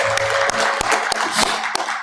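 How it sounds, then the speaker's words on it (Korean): Church congregation applauding together, dense continuous clapping with a few sharper claps standing out, filling the room at steady strength. "하나님께 영광의 박수 올려드리겠습니다"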